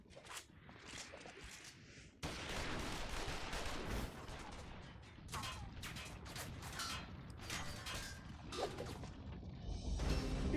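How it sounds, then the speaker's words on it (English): Enemy soldiers open fire in a Final Fantasy XIV cutscene, with bursts of gunshots and rattling volleys under heavy mechanical clatter and creaking, moderately loud and continuous. "Shoot the bastard! Shoot him!"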